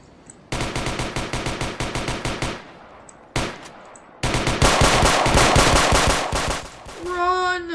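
Rapid automatic gunfire in the Roblox game Warship RP, several long loud bursts separated by short pauses, with a brief game tone at the end.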